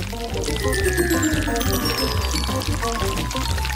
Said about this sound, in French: maintenant, je prends la bouteille. Et je verse toute la pâte.